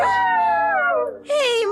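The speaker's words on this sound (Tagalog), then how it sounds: "Bakit tumaalulong ang mga aso ko?" Dogs howling in a drama scene, long loud wavering howls up close, one drawn-out cry dipping briefly before a second rising howl joins.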